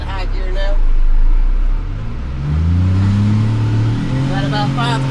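A soundproofed CFMOTO U10 UTV engine revs up to about 5,000 RPM, a loud droning whine that climbs in pitch and then holds steady, heard from inside the vehicle with talking over it.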